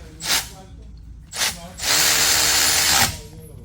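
A powered driver with a 13 mm socket spins a brake bolt on the front brakes of a Mercedes GLS 63 AMG, giving two short whirring bursts and then a longer sustained run over a second, close and loud.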